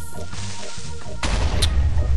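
Explosions in the Minecraft video game, a couple of muffled thuds followed by a louder booming blast with rumbling debris, close and alone without talk.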